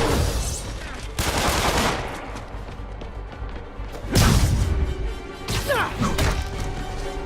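Enemies firing guns in the Marvel's Spider-Man video game, dense bursts of gunfire mixed with thuds and crashes, loud and continuous with brief swells, no talking.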